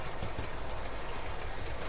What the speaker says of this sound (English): As you can see behind me, there's a train running.